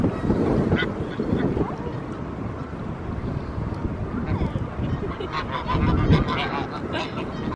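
Geese honk repeatedly at a park lake, with clustered calls near the start and again toward the end over heavy wind buffeting the microphone.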